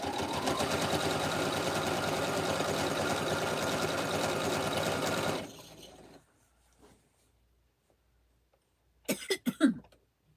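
A sewing machine runs steadily with a fast, even stitching rhythm for several seconds, then stops, followed by quiet and a few brief coughs.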